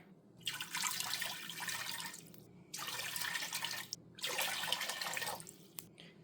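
Water pours from a tap into a container for pickle brine in a home kitchen, three soft splashing bursts of a few seconds each with brief pauses between.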